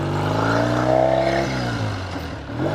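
A 1970 Triumph Tiger 650 motorcycle engine pulls hard on a road ride, its loud, close harmonic drone rising in pitch, then dropping at a shift before climbing again, with no voices.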